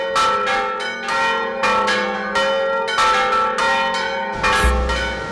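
Church bells pealing from a 125-year-old bell tower during a festival, a loud, rapid, irregular run of overlapping strikes with ringing overtones, continuous and close, no talk.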